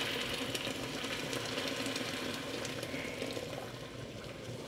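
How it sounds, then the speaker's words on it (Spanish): Water is poured into a pot of rice being cooked for green rice, a soft, steady trickling and splashing that runs continuously at low volume, with no talking. "vamos a agregarle agua o pueden utilizar también caldo de pollo"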